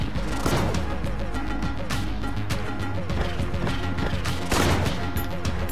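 A new shotgun in Enter the Gungeon fires again and again amid dense, loud game effects, with sharp heavy blasts and crashes layered over continuous music and noise.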